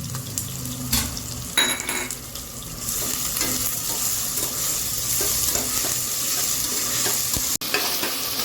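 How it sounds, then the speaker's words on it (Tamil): Ginger garlic paste and curry leaves sauté in a pan for a mutton keema curry, giving a steady close sizzle with spoon scrapes and stirring clatter throughout, and no talk. "இஞ்சி பூண்டு பேஸ்ட்டும் சேர்ந்து வதங்கட்டும்."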